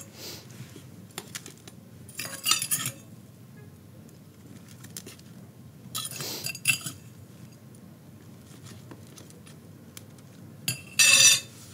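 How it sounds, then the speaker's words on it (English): A spoon scoops potting soil while succulents are planted. Short, faint gritty scrapes come in a few separate bursts over quiet background noise. "Let me just use the spoon."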